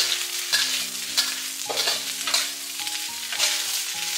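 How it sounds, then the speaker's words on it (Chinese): Napa cabbage stems are stir-fried over high heat, with a continuous sizzle broken by regular scraping tosses of a spatula in the wok, close and fairly loud. "开大火，不停地给它翻炒"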